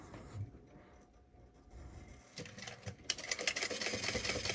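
A sewing machine basting fabric at a long 4.5 stitch length starts after a quiet moment and runs in a close, rapid mechanical chatter that grows steadier and louder toward the end.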